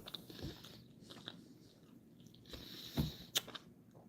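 Someone biting into and chewing a Cajun burger up close during a late dinner: soft crunchy bites and wet mastication noises, quiet and intermittent, with a couple of sharper crunches near the end and no talking.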